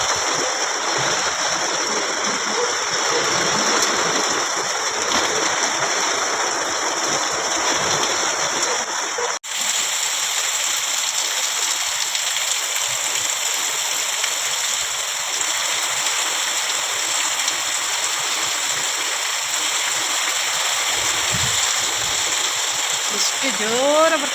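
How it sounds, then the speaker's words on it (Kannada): Loud, dense rain pouring steadily, a constant rushing hiss of heavy drops, with a brief shift partway through. "ಮಳೆ ಎಷ್ಟೆಷ್ಟು ದೊಡ್ಡ ಹನಿ ಬರ್ತದೆ ನೋಡಿ"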